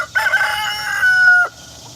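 A single loud, close rooster crow lasts about a second and a half, rising then holding a long drawn-out note before breaking off, with a faint steady hum underneath.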